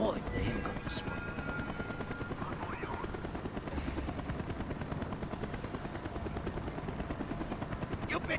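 A helicopter in the Call of Duty Black Ops video game gives a continuous rhythmic rotor chop throughout, with brief bursts of gunfire and in-game voices over it.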